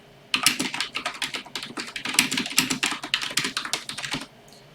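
Typing on a computer keyboard, a close, brisk burst of crisp key clicks in an even, fast rhythm lasting about four seconds, between quiet gaps and without voices.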